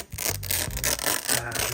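Protective adhesive film peeled off the bumper bar of a Shark AV2511AE robot vacuum, a loud, close, continuous crackling tear with a few brief dips.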